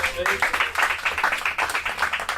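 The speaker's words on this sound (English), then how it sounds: "Round of applause for him" Audience applause greets Professor Christian Farioli as a guest at a live real-estate branding event aboard a yacht in Dubai: a dense, steady patter of many hands clapping, with a voice talking over it.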